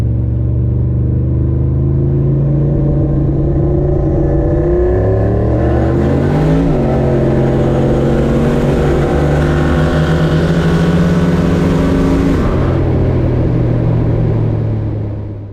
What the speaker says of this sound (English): activates the 2-step on the RPM, so I can kind of hold the accelerator flat, build boost ideally quicker, and then go.